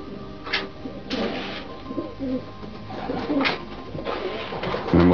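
Pigeons in a racing-pigeon loft coo repeatedly, soft throaty calls close by, with scattered rustling and fluttering between them and no clear speech.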